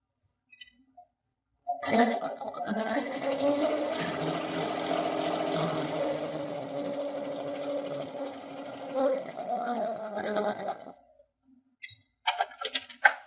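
A sewing machine chain-pieces a quilt block, running in one steady whirring, ticking stretch of about nine seconds before it stops, followed by a few brief handling clicks.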